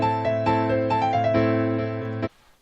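A short ostinato melody of repeated notes is played back as synthesized music in Hooktheory, a steady rhythmic bar that stops abruptly near the end.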